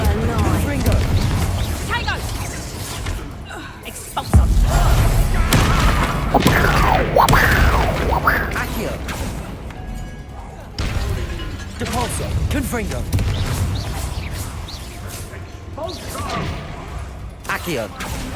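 An Expulsor spell explodes in the Hogwarts Legacy video game combat, with booming blasts, thuds and whooshes mixed into game music and spoken lines throughout.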